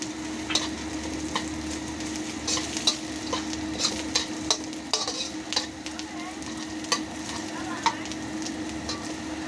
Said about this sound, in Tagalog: para maprito ang ating dried shrimp